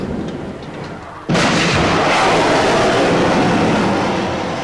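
A missile launches with a sudden loud blast partway through, then a sustained roaring rush that holds steady and fades slightly toward the end after a quieter lead-in.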